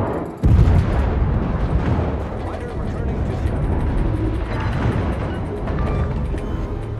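A heavy blast as an enemy cruiser is destroyed in a naval warfare video game, opening with a sharp low boom and rolling into a sustained loud rumble of battle noise, with speech heard over it.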